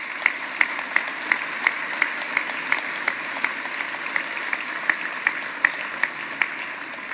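A New Year's address audience in Nancy applauds students who gave first aid, a steady, moderately loud wash of clapping with a few crisp individual claps standing out.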